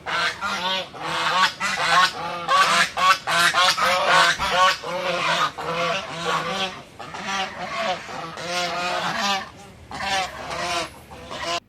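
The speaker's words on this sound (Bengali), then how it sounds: "এখানে কতগুলো রাজহাঁস রয়েছে কি ডাকছে দেখো" A flock of geese at the pond of Maa Anandamoyee Ashram in Agarpara, beside the Ganges, honks loudly and close by in a continuous overlapping chorus of nasal calls that barely pauses.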